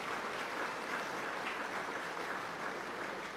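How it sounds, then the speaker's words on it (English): An audience gives a steady round of applause after a life member speech at a football club function. The clapping is dense, even and constant throughout, with no talking over it. "I think we should all give them a round of applause for doing what they do so well."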